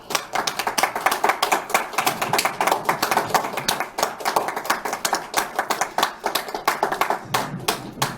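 Audience applause at the opening ceremony of a regional disability health care center in Incheon, right after a cake cutting: many hands clapping steadily and close, a dense, sustained burst lasting throughout with no talk.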